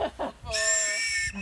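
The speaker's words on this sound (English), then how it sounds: "if anyone wants to blow their whistle, they can blow it now" Rafters give one long, loud, shrill blast on whistles, lasting most of a second, right after a brief burst of talk at the start.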